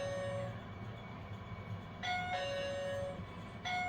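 Kaadas Q9 smart lock doorbell chiming, a bright electronic two-tone ring that repeats over a low hum, quiet and alone.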